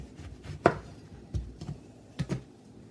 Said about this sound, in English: We're going to cut off the bottom. And we're going to use the chef's knife for that.